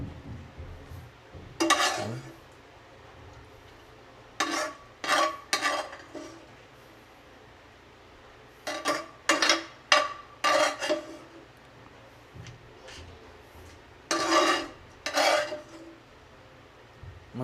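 Dog food for a Shih Tzu mixed with sodas in a bowl, stirred with a utensil: bursts of scraping, clinking strokes in irregular groups, close and moderately loud against a quiet room.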